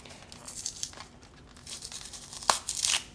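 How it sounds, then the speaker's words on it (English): The seal of a novelty cassette package, really a cardboard folder, is torn open, giving close, crinkly ripping bursts that build to a sharp tear near the end. "Breaking the seal."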